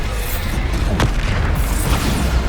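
A Bombarda spell in the Hogwarts Legacy video game bursts with a heavy, rumbling boom and a sharp crack near the middle, then the low roar of the blast slowly fades.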